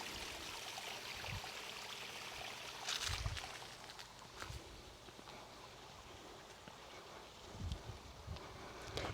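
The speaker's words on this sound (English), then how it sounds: "Pretty waterfall." Small waterfall on a rural Auburn property, a faint, steady rush and trickle of falling water in the outdoors with occasional soft low thumps and rustles, no voices.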